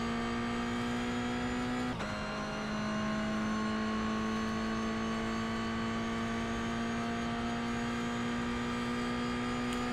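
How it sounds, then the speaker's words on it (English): Racing car engine in a video game holds a steady high drone, with a sharp gear-change drop around the second mark before it settles into an even, continuous tone, no talking. "The engine noise and stuff."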